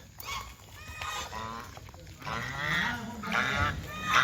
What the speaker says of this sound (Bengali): দেখো রাজহাঁস, রাজহাঁস একটু চিল্লাও তোমরা।